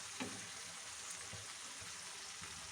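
Four eggs frying in a pan for a quick breakfast, a steady close hiss of sizzling oil with faint crackles throughout, no talking.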